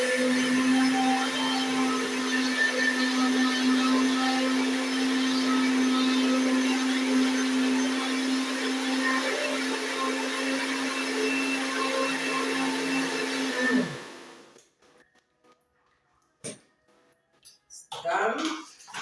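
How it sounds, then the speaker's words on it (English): A kitchen blender whirs steadily for about fourteen seconds blending pumpkin pancake ingredients, a loud close motor drone that stops abruptly, followed by a few faint clicks and handling sounds. "blend these ones first."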